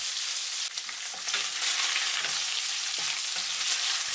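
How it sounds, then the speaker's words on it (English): Marinated pork pieces spread out in a hot pan sizzle loudly and steadily, a dense crackling fry with a few soft stirring knocks near the microphone. "Put the pieces of marinated pork. Spread them out. Let them grill for 1 minute."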